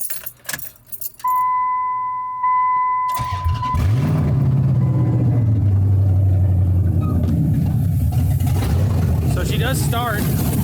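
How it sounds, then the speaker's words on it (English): A Ram 1500 pickup in need of a tune cranks on a cold first try and settles into a low, steady rumbling idle, after keys jangle and a tone chimes; the engine runs loud and close. "She starts up, she sounds good. She idles, she just really needs a tune."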